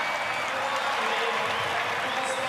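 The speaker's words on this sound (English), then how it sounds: "Great reaction from the crowd." A large Race of Champions crowd in Sydney applauds and cheers steadily for a race winner, a dense, continuous roar of clapping with a commentator's voice running over it.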